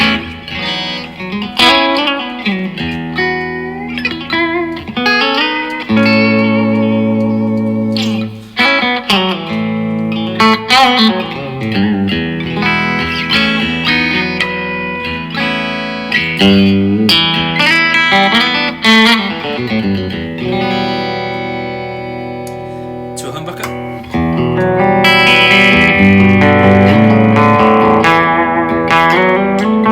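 Electric guitar with a humbucker pickup played through a Blackstar HT20 Mk2 valve amp on its clean channel with reverb, ringing chords and picked notes sustaining loudly and continuously, with a few brief spoken words near the start.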